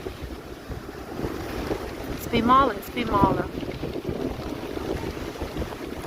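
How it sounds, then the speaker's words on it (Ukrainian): Strong wind buffets and roars against the microphone on a Black Sea beach at Sveti Vlas, Bulgaria, with two short exchanges of talk in the middle. "Дуже сильний вітер зінявся."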